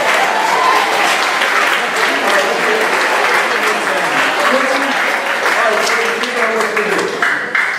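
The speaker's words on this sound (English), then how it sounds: "Let's give him a round of applause." An audience applauds steadily for a brave volunteer coming up at a live presentation, the clapping dense and sustained throughout while voices talk and call out beneath it.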